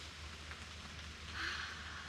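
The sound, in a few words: rain dripping from tree leaves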